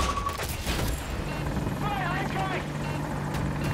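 An Apache attack helicopter in Battlefield 2042 drones with a constant rotor roar, mixed with bursts of in-game gunfire and a voice talking over it.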